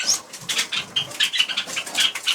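Java sparrows flit and flutter inside an aviary cage, quick repeated bursts of wingbeats and light patter against bars and perches, close and fairly loud with no talking.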